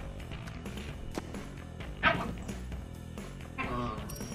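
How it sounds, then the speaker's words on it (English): Dogs fighting in the video game Deathloop, with yips, barks and whimpering snarls bursting out in quick flurries over a steady game soundscape, loudest around the middle and again near the end. "Don't you love it when your dogs just fight?"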